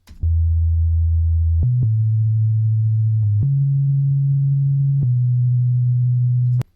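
Deep, smooth synthesized sub-bass notes, each held for a second or two, stepping between a few low pitches with sharp clicks at each change.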